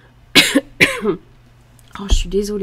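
A woman coughs twice in quick succession, loud and close, then after a short pause speaks briefly in French.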